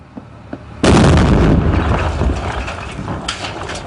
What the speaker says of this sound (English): The Marines leave the house and detonate the bomb.